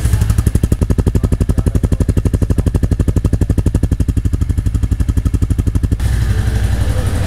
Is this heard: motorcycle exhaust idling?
yes